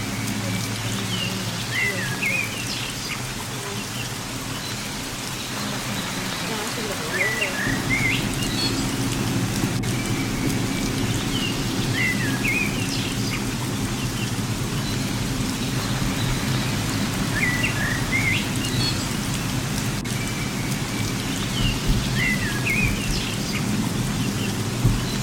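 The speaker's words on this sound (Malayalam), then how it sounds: "പയ്യന്മാരൊക്കെ നല്ല മഴയായിക്കൊണ്ട്" Heavy rain pours steadily in a rural village setting, a dense continuous hiss that thickens after the first few seconds, with faint bird chirps recurring in the background and no voices.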